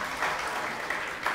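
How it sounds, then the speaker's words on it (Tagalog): Church congregation clapping for Jesus during a Sunday worship service, a steady dense wash of many hands with a few louder swells, no voices over it. "Palakpakan po natin si Jesus."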